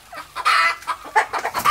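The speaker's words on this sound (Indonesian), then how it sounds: "Ayam kampung yang kita pelihara ini usia untuk bertelurnya pada usia 6 bulan." Free-range village chickens cluck on an organic farm with fermentation-bedding coops, several close, loud bursts of clucking in quick irregular succession.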